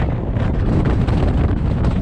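Strong wind on the summit of Anza Peak, Colorado, buffets the microphone in a steady, loud roar, with no voices over it.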